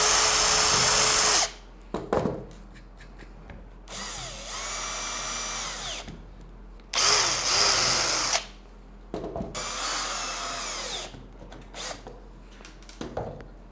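A power drill boring a pilot hole for a screw while a compact router table is assembled, four loud whirring bursts of a few seconds each, spinning up and down with short pauses between, close and without talking.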